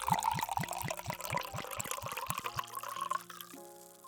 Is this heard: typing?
no